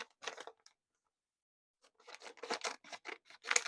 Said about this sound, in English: the bottom part, I cut this side, the other side